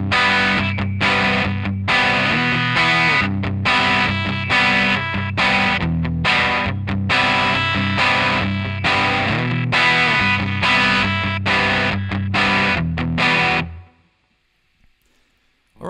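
Distorted electric guitar playing the second verse of a song, loud dense strummed chords with brief rhythmic stops, then cutting off abruptly into near silence at the end.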